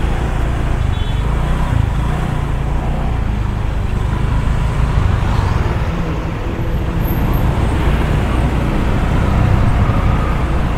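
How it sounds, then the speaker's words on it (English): Dense traffic jam on Jalan Raya Kerobokan in Seminyak, Bali: a steady, loud wash of idling and creeping car and motorbike engines, continuous and close, with no talking. "Look at the traffic. It's really bad traffic jam here."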